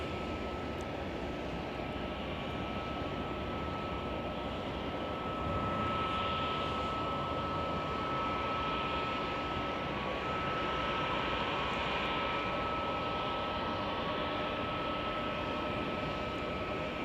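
Airplane at Chicago O'Hare airport, a steady broad engine roar with a constant whine, fairly distant and unchanging across the whole stretch, without talk.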